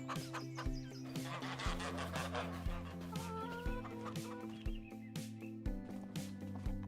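Chickens cluck repeatedly inside a coop in Farming Simulator 25, a steady run of close, busy fowl calls over a looping game music bed with no voices.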